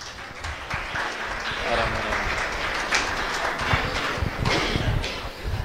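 An audience at an inter-church singing competition breaks into broad, sustained applause, a busy wash of many hands clapping at once with no voices over it.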